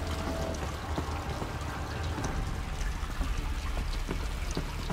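Flowing water in Horizon Zero Dawn, a constant trickling, splashing stream with fine droplet patter, even and moderately quiet throughout with no voices.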